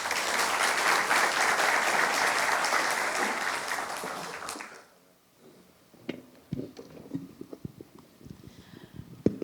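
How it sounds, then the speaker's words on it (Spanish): Audience applause at a formal lecture event in a hall, loud and dense for about four and a half seconds, then cutting off into quieter rustling, shuffling and scattered small knocks. "les recibimos a todos con un fuerte aplauso"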